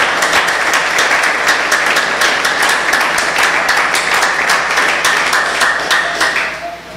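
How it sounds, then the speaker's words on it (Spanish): Church congregation applauding during a Spanish-language worship service, dense steady clapping from many hands that fills the room loudly, then begins to fade at the end. "Vamos a dar un aplauso al Señor en este momento."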